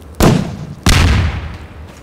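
Two heavy blasts from an SMG grenade in the video game Half-Life 2, each a sudden loud boom with a rumbling, decaying tail, the second following about two-thirds of a second after the first.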